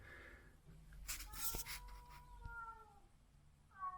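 A cat meows several times indoors, faint and drawn out, with rustling and handling noises in between and a final short meow at the end.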